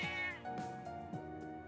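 A cat in the video game Trails of Cold Steel lets out a couple of clear, close meows with falling and rising pitch, heard alone without talk.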